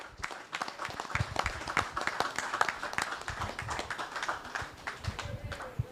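Applause for the Culturama 50 patron, King Miko, at a cultural celebration: a dense, steady crowd clapping that holds for the full six seconds, with some talk faintly under it.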